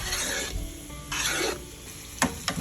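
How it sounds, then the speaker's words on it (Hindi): Tempering spices for a dahi kadhi yogurt curry crackle and sizzle loudly in hot oil in a couple of strong bursts, followed by a few sharp clinks of a utensil. "ये तड़का हो रहा है, बस होने वाला है इंशाल्लाह।"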